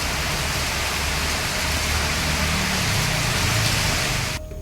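Heavy rain pours over a flooded road near Kogilu in Yelahanka, a constant loud hiss of falling water with a faint low traffic rumble underneath, dropping off abruptly at the end.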